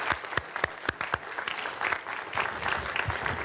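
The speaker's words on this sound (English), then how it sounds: "Let's join together and give him a round of applause." Steady audience applause for a speaker after a talk on Ithaca's net zero strategy, dense clapping from a room with a few sharp claps up front, continuing throughout.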